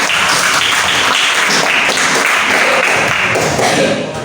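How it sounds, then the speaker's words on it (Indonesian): Students in a classroom applaud together, a dense, loud burst of clapping that fills the whole few seconds and tapers slightly at the end. "Beri tepuk tangan untuk kalian semua."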